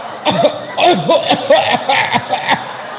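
A series of rough, repeated coughs in quick succession, close and fairly loud, like a voice hacking several times in a row.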